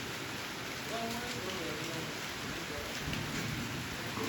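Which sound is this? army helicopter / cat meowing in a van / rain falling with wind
rain falling with wind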